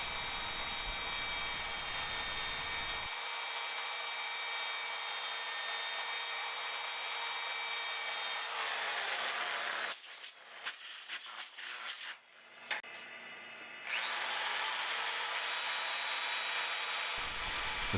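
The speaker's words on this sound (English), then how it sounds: "Next is grit 400, and I only sand the center area." A wood lathe spins a turned piece while 400-grit sandpaper is pressed to its center area, giving a steady close hiss and whir that drops out briefly near the middle and then resumes.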